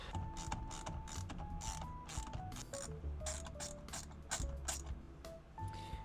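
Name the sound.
ratchet removing steering wheel airbag bolts on BMW E36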